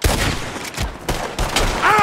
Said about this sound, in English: Shoot a gun, didn't I?